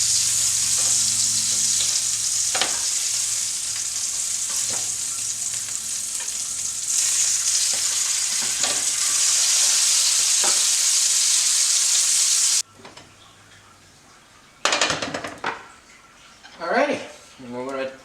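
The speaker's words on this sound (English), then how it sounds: "Just frying it over a little bit of peanut oil." Andouille sausage mixture sizzles steadily in a little peanut oil for most of the stretch, a dense close frying hiss with occasional stirring clicks, then cuts off to near quiet before a few clattering kitchen knocks and some speech near the end.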